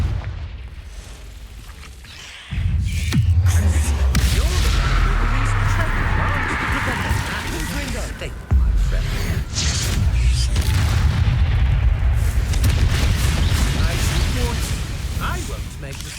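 A Confringo blasting spell in Hogwarts Legacy erupts into loud, sustained explosive rumbling with a heavy low boom, a sudden jump in force partway through and a second surge, dense and continuous to the end.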